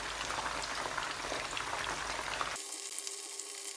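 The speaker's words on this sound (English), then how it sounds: "after adding your yam, wait for a little while before you stir, for like 5 minutes before you stir through" Yam pieces fry in hot oil with a dense, steady crackling sizzle that stays loud and even, then thins abruptly toward the end, with no voices.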